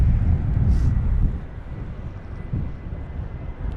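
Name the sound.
Airbus A220-300 airliner at Heathrow in storm wind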